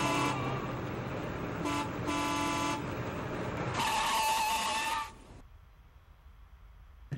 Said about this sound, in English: he gets hit by a different truck, but at the same place where Eunsa got hit by a truck